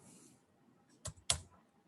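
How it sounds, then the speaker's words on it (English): Two sharp, separate clicks from a computer keyboard sound close and distinct against near silence, with no talking over them. "When you are typing,"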